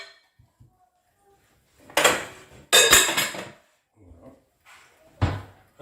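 A large glass salad bowl is handled in a kitchen, giving a few sharp knocks and clinks against a hard surface with quiet pauses between them.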